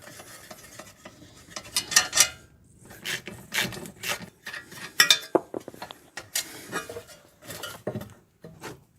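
Lower bolts are removed from a Lexus LS400 suspension with a ratchet, giving bursts of rapid metallic clicking and clinking of tools and loose bolts, close and fairly loud, with no talk.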